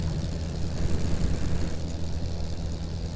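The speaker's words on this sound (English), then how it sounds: "They will get attracted to you if you make too much noise, and engines definitely make too much noise" Airship engines in Worlds Adrift drone steadily with a low propeller-like rumble and broad airy noise, a continuous close hum with no talking.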